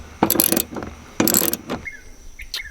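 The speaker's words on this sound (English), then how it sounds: "up here I'm just tightening it down using my socket" Socket wrench tightening a bolt during a Jeep Wrangler third-row seat install: two bursts of rapid ratcheting clicks, close and fairly loud, with brief pauses and a few faint squeaks afterward.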